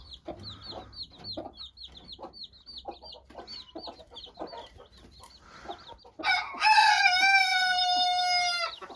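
Hens cluck and chatter steadily, then a young rooster lets out a loud, strained crow that carries for several seconds.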